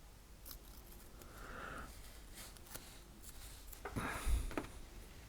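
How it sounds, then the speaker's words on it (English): Masking tape being peeled off parts of a Monogram 1/48 scale B-24D plastic model kit, heard as faint close scratchy rips and small crinkles in a quiet room. "Let me try to pull some of this tape off"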